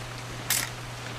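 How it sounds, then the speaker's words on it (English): A camera takes a photo in the video game What Remains of Edith Finch: a single quick shutter click stands out once against a quiet hum. "Just want to get a shot of you, Dawn, then we can take off"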